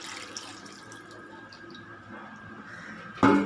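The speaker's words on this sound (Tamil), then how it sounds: "வேக வச்ச தண்ணி கொஞ்சம் இருக்கும், அதையும் எடுத்து ஊற்றிக்கோங்க" Cooking water is poured into a pan of chicken sukka, a faint, steady trickle that ends in a brief louder splash.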